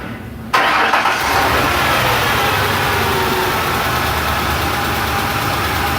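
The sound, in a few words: car engine starting and idling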